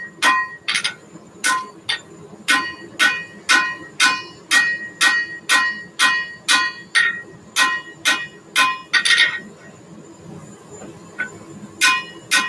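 A hammer strikes steel on an anvil while drawing it out during forging of an ice fishing saw, about two dozen ringing clangs in a steady, evenly spaced rhythm, close and loud.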